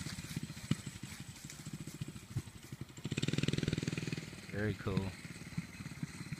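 A small go-kart engine hums steadily as a five-year-old child drives, swelling louder for a stretch as the kart passes near, while people talk over it throughout.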